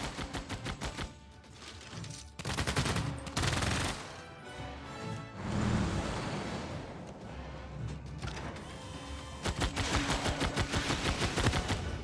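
Units firing in the strategy game Civilization VI, bursts of rapid rattling gunfire interrupted by booming impacts and rumbling battle noise, loud and continuous with no talking.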